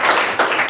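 Short burst of applause at a Toastmasters club meeting, a group clapping steadily for under a second, fairly close with no voices.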